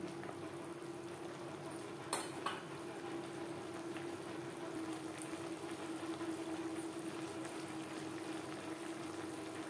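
Jute leaves cook in a soupy pan over a gas flame with a soft, constant bubbling simmer, broken early by a brief utensil clank as they are stirred.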